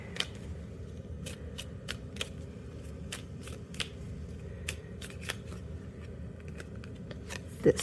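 Affirmation cards shuffled by hand at a tarot-style reading, giving a steady run of soft crisp riffles and taps, close and fairly quiet, with no voices.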